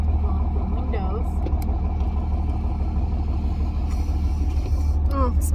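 A Dodge Ram 2500 turbo diesel pickup runs with a deep, steady low-pitched rumble from close by, continuous throughout, while a person talks over it in spots.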